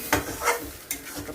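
Kolmi greens pithali, thickened with rice flour, simmering in a pan while being stirred, giving a few soft scraping strokes over a low bubbling hiss, close and brief, no talking.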